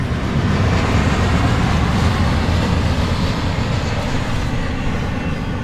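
A short train rolls past nearby in the Colorado Desert at Bombay Beach, California, a steady, loud rumbling roar, continuous and unbroken throughout.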